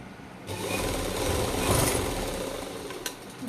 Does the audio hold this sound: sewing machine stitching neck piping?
yes